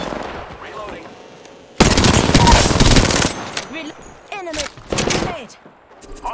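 Automatic weapon fire in the Apex Legends battle royale shooter: a loud, close burst of rapid shots, followed by shorter scattered bursts, with game voice lines and chirping effects in between.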